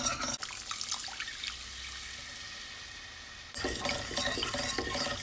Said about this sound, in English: you just gradually stir in 500 ml of milk